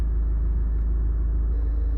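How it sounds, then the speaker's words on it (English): A Honda Civic 1.6 i-DTEC diesel hatchback idles steadily with its engine running, giving a constant low, close rumble with no change in pitch or level and no voices. "engine's running, there's no warning lights on the dashboard"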